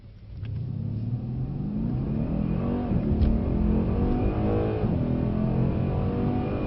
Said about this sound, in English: you're going to drive us down the road as fast as you can